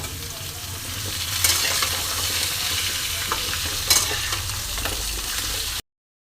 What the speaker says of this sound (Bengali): এবার একটু খুন্তি দিয়ে হালকা করে নাড়াচাড়া করে নিচ্ছি।